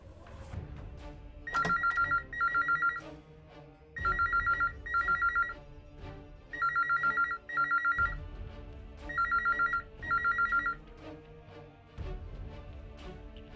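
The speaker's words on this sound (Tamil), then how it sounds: "ஃபோன் ரொம்ப நேரமா ரிங் ஆயிட்டே இருக்கே, யாரும் எடுக்கவே இல்ல." A telephone bell rings in repeated double bursts, about five cycles with short gaps between them, loud and clear over a low background in a Tamil drama scene, and nobody answers it.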